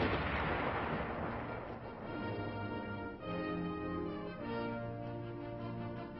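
A US Army armor support weapon fires directly, with a heavy broadband blast at the start that settles into a steady, rumbling mechanical drone.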